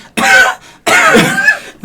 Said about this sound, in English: coughing all the soot out